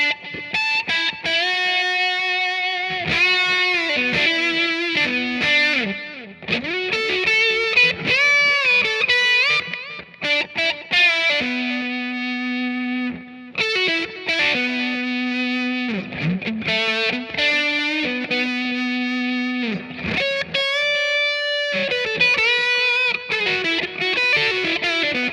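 An electric guitar plays a solo through an OCD overdrive pedal with delay and reverb: sustained, bending distorted lead notes and quick phrases, loud and close, with echoing tails and brief gaps of silence between runs.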